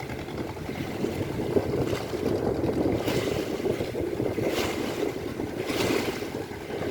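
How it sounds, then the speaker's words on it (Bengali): A fishing trawler chugs past on a river, a steady broad rumble of engine and water wash with wind noise over it, holding even throughout with a few soft swells of spray. "জাহাজ পাশে ট্রলার যাচ্ছে মাছ ধরতে"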